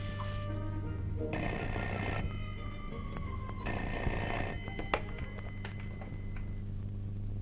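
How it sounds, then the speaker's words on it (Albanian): A telephone rings indoors in two long electronic bursts of about a second each, separated by a pause, with faint clicks and handling sounds afterward over a steady low hum. "Suku, merë pak telefonin se jam e zënë."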